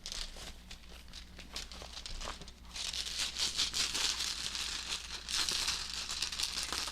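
Small hard rune stones rustle and clatter together in a bag, a continuous shuffling rattle that grows busier partway through; no voices.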